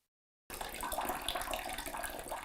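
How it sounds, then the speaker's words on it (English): Water spilling from a disconnected toilet tank supply line, starting abruptly after a brief silence and continuing as a steady splashing pour, close and fairly loud. "Have a bucket nearby so you can catch the extra water that's going to spill out."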